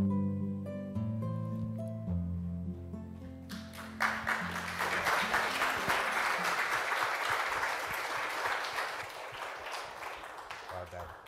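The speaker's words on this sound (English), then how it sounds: "Another round of applause, please, for Skylar Darrigan." Audience applause at a Cape Town climate change event rises suddenly out of a sustained musical chord and continues as a dense, steady round of clapping.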